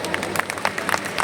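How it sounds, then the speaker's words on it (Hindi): An audience at a business opportunity presentation claps. Sharp individual claps come in an uneven scatter, with a few voices mixed in. "आप सब लोगों के लिए एक खुद जोरदार तालियां बजाइए।"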